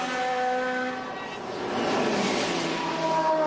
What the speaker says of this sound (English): Whoosh goes the turbo diesel.